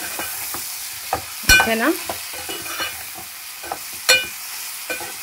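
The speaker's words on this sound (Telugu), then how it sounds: "ఒక్కసారి ఎగ్స్ వేసుకున్నాం కాబట్టి జాగ్రత్తగా కలుపుకోవాలి" A spoon stirs eggs frying in a pan for a brinjal, raw mango and egg curry, with a few sharp scraping strokes over a soft steady sizzle, while a voice speaks briefly.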